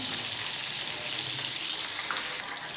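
Curry leaves dropped into hot oil while making soya chunks 65 give a steady, close frying sizzle that runs without a break and with no voices.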